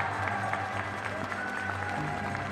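A church congregation gives a round of applause during Mass, a steady, fairly quiet patter of many hands clapping throughout, with faint voices and sustained tones underneath.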